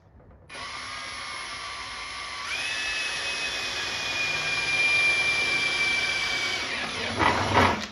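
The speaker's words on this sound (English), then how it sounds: "let's go ahead and drill some holes" A power drill whines steadily, its pitch rising as it bites into the metal of a 1959 Impala convertible's cruiser skirts, ending with a brief scraping clatter.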